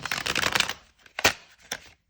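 Tarot cards riffle-shuffled in a quick fluttering burst, then a few separate snaps and taps as the deck is squared, close by.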